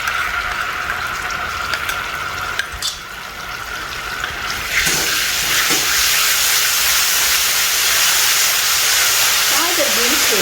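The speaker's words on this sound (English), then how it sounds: "Fry the bean paste until you get the smell of the fragrance of the bean paste." Bean paste frying in a hot wok for Nyonya stir-fried yellow noodles makes a steady hiss that swells into a loud, bright sizzle about halfway through and holds to the end.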